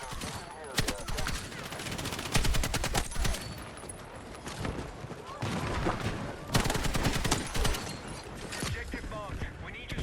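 Sustained bursts of M240L machine gun fire in Battlefield 6, loud rapid automatic volleys repeating in clusters across the whole stretch, with battle noise between bursts.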